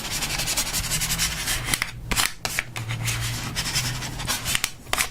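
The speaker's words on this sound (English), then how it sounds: "Then go ahead and burnish it down again." Hands press and rub a Xyron image transfer down onto its surface, making a continuous close scratchy rubbing sound with brief pauses and small taps.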